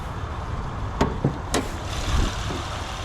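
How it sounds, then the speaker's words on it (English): A 2005 Honda Accord engine idles with a steady low rumble, broken by a few sharp clicks and knocks close by. "let me show you the motor too"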